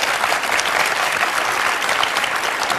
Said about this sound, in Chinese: 再次掌声欢迎。